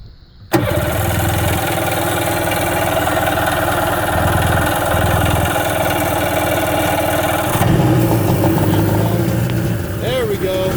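A Sea-Doo personal watercraft engine cranks and catches, then runs loud and steady close by with a brief surge near the end. Voices are heard under the engine.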